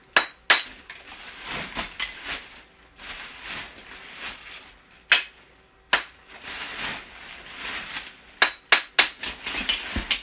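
A hammer taps all around a geode, producing irregular bright, ringing clinks and knocks of varying loudness, some in quick clusters, with quieter handling noise between strikes.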